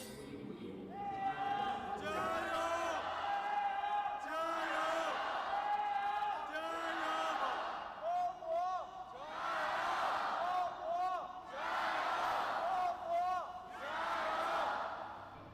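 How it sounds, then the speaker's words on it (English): Loud arena crowd at a League of Legends esports match, with repeated waves of shouting, whooping and cheering surging and dropping over about fifteen seconds, some bursts more intense than others. "Some lovely loud crowds there"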